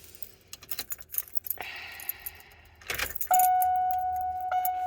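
Keys jangle close by, then a stalled car is cranked with a short, rough churning burst. A steady electronic tone and a low hum follow as the engine catches.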